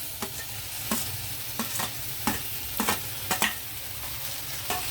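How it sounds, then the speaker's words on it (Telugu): Onions and tomato fry in oil in a pan for an Andhra-style dried prawn curry, with a spatula tapping and stirring every second or so over a constant soft sizzle. "మన ఆనియన్ చక్కగా ఫ్రై అయిపోయాయి కదా, ఇలా వేగాలన్నమాట"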